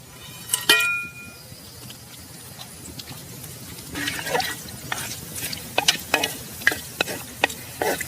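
Bay leaves, cloves, cardamom and cinnamon hitting hot oil for a spicy mutton curry, with a sputtering sizzle and repeated spoon clinks and scrapes building toward the end.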